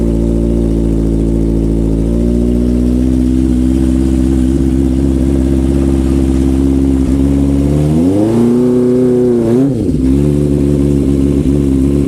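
A 1974 Honda CB350F1 motorcycle engine starts and idles steadily with a low, throaty rumble, then revs up sharply twice before settling back to idle, loud and close.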